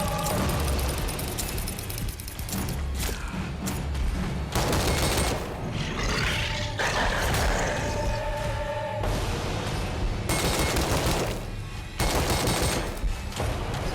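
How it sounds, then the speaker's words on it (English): Submachine gun firing in the video game Crisol, dense loud automatic bursts near and continuous, broken by brief pauses and a few heavier booms. "I think the SMG might be the way to go."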